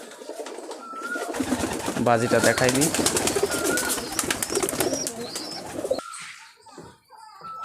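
A Giribaz pigeon coos and calls up close, with brief wing flaps and someone talking over the birds.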